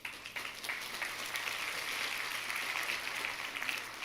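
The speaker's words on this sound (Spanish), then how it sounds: "un aplauso a las personas que han intentado algo 2 veces" Congregation applause during a Christian sermon, a fairly faint but steady patter of many hands clapping that swells slightly and holds, with no talking over it.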